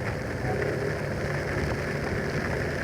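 Heavy, nonstop rain from a typhoon, a steady dense wash of noise that holds level throughout with no break and no voices.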